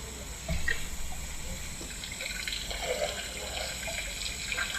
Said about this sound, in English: Listening to the sounds of these elephants drinking and rumbling.